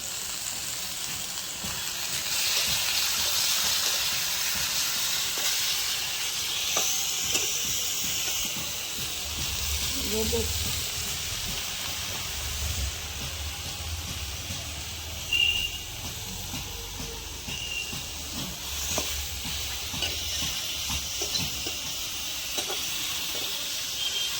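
Eggplant frying in hot oil gives a continuous broad hiss and sizzle throughout, fairly close and steady, with faint crackles and a few small knocks, no voices.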